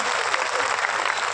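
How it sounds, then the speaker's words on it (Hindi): Audience applause at a speech on social justice: a dense, steady wash of many hands clapping together, loud and continuous throughout with no pauses, filling the room with a bright crackling roar. "आप लोगों को जोरदार ताली बजानी चाहिए"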